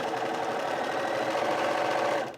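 A Bernina 350 sewing machine runs steadily and close by, stitching a zigzag lightning-bolt stretch stitch with an even mechanical whir and no voices.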